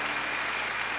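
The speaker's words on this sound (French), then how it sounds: "On les applaudit, on les applaudit." A France's Got Talent audience applauds steadily, a dense, loud wash of clapping that fills the whole moment without a break.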